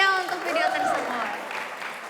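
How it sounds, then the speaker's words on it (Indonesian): Audience applause at a school financial-literacy session at SMA Labschool Bintaro, a brief burst of clapping heard under a voice. "berikan tepuk tangan yang paling meriah untuk video tersebut"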